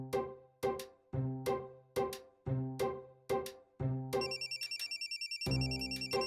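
A phone rings for an incoming call: a loud, repeated bell-like ringtone with evenly spaced struck notes, then a brief fast electronic warble and a bright layered tone, with no one speaking.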